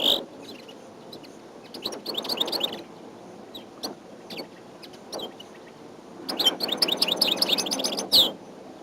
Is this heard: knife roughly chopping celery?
no